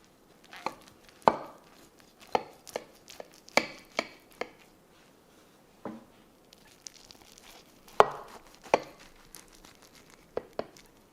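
A knife cuts into a baked Mexican corn tortilla migas breakfast casserole with cheese, making a series of sharp, close crunches and taps that come in irregular bursts, with quiet gaps between them.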